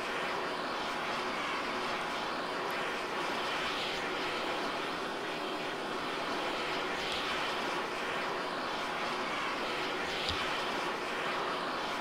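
A-10 jet engine in the Arma 3 game, flying in formation over Taviana: a steady, loud broadband roar and whine that holds for the full stretch without letting up.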